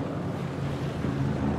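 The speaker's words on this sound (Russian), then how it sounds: "слышно катер где-то." A motorboat runs somewhere nearby in the ManEater video game, a low, steady engine drone blended with wave wash and wind on open water.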